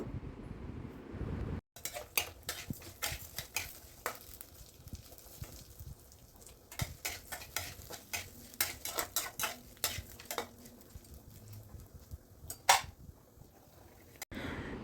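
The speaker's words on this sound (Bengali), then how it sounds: "আর এই ডালটাকে আমি একটু ভালো করে লাল লাল করে ভেজে নেব" Mung dal being dry-fried in a pan until reddish, stirred with a metal utensil: repeated sharp scraping clicks and clanks close by over a faint, barely present sizzle, with no talking.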